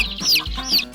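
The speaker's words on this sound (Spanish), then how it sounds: "Escuchemos cómo hacen los pollitos" Small farm poultry chicks peeping in a short, close burst of high chirps, two rising-and-falling calls in quick succession with nothing else heard.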